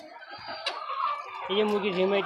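Drowsy, unwell laying hens on a poultry farm give a short run of soft clucks and murmuring calls, close by and moderately loud, with no talking.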